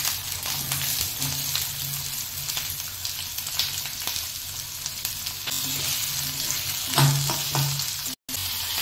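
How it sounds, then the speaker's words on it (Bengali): Chopped onion frying in oil in a pan with garlic for chilli egg bhurji, a steady close sizzle with brief stirring scrapes and a louder hiss near the end. "এবার পেঁয়াজটা দিয়ে দেব।"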